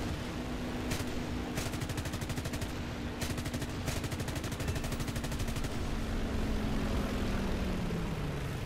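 Machine guns of an F4U-4B Corsair in War Thunder firing in several rapid bursts over the steady drone of the propeller engine, the gunfire loud and close, the engine tone shifting slightly toward the end.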